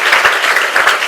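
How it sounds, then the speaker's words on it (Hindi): An audience breaks into loud, dense applause, many hands clapping together in a close, continuous burst. "तो इसके लिए भी एक बार जोरदार तालियां बजाओ"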